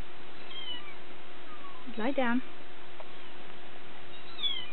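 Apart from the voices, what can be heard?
kitten meowing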